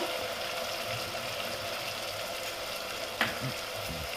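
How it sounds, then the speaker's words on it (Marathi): Garam masala and red chilli powder are stirred and roasted in a hot pan for Mughlai chicken, giving a steady close sizzle with a brief scrape of the spoon near the end and no talking. "आपण हा मसाला छान भाजून घेतलाय।"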